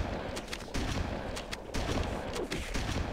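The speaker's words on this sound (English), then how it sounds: "Looks like a trench gun, but... uses the Halo CE shotguns." Shotgun blasts from a trench-gun-style weapon using the Halo CE shotgun sounds ring out in Halo Custom Edition, several loud shots in quick succession.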